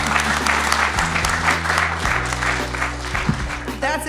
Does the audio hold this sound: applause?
yes